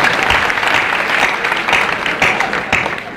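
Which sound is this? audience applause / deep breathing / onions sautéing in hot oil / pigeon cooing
audience applause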